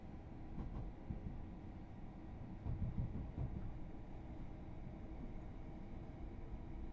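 A Class 66 locomotive hauling a stone freight train passes by, a low, steady rumble and rolling clatter of wagons heard from inside a moving train, fairly faint throughout.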